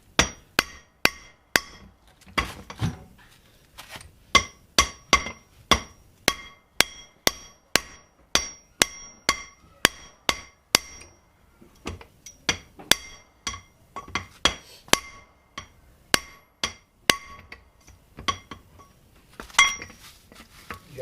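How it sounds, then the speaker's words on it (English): A hammer strikes a metal plate over and over to press a wheel bearing into a 2008 Yamaha Grizzly 660, producing sharp ringing clanks in a steady rhythm, some two dozen blows with brief pauses. "take a hammer and smack this plate."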